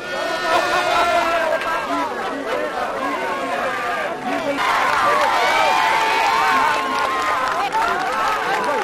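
A crowd swarms around the Mercedes popemobile, with a dense babble of many voices, shouts and cheering, loud and continuous throughout.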